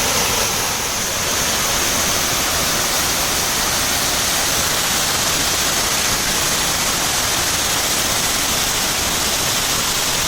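A waterfall high in the hills rushes without pause, a loud, dense roar of falling water heard close up, steady from start to finish with no voices.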